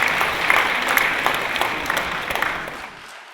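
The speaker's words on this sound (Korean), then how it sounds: "모든 성화들을 위해서 다시 한번 격려의 박수 부탁드리겠습니다" A congregation applauds during a Sunday worship service in a large church, a steady wash of clapping from many hands that fades out over a few seconds.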